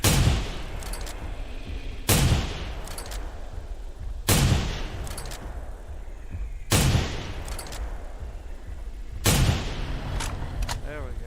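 Booming gunshots in the dinosaur hunting game theHunter: Primal, with five loud, widely spaced blasts, each followed by a long rolling echo.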